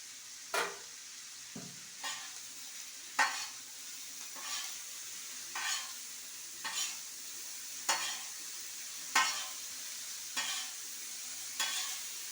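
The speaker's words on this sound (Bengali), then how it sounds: "লবণ দিয়ে আবার একটু নাড়াচাড়া করতে হবে।" Chow mein being stirred in a frying pan after salt is added, with regular scraping strokes about once a second over a steady soft sizzle, fairly close.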